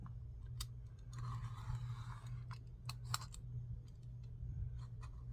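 A craft knife slicing through paper for a handmade journal, quiet scratchy strokes with a longer drawn cut near the start and scattered short ticks and taps in a quiet room.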